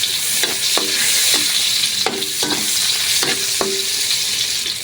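Onion frying in hot oil for a pork offal adobo, a steady bright sizzle with a few sharp spatula scrapes against the pan, close and alone.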